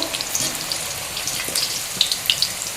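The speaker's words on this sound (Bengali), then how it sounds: "আলুগুলো একটু আস্তে আস্তে এভাবে ছেড়ে দিচ্ছি, আর আলুগুলোকেও লাল লাল করে ভেজে নেব" Potatoes frying in hot mustard oil give a steady, soft crackling sizzle with scattered sharp pops close by, and no one speaks.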